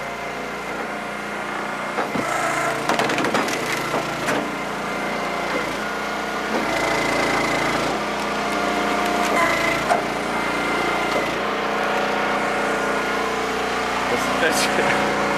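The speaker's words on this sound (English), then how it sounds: "Some of the nastiest oak I've ever split." Large, gnarly oak rounds being split on an Eastonmade wood splitter, its small engine droning steadily throughout while wood creaks, cracks and splinters in repeated bursts, with a voice talking at times over the machine.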